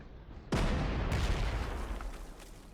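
Artillery in the strategy game Panzer Corps 2 fires as one sudden, loud blast, followed at once by a second boom and a long rumbling roar that fades slowly with no voices.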